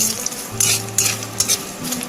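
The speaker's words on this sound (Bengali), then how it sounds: "পরিষ্কার করে ধুয়ে নিয়ে তারপর আমি এটা ভেজে নিচ্ছি" Curry leaves and peanuts frying in hot oil, a steady close sizzle broken by several short bursts of stirring and scraping, with no one talking.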